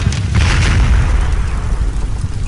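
A tank exploding in a 2009 war video game set in an urban battle at Homs, a loud close rumbling boom with sustained low roar and crackling debris.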